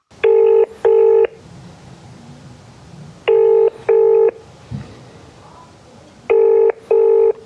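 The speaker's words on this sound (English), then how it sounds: "we decided to try and call them" Three rounds of touch-tone dialing, each a pair of loud paired DTMF tone bursts, separated by quiet gaps with faint background noise, as a call is placed to a business office in Belgrade.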